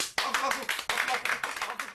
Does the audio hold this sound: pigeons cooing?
no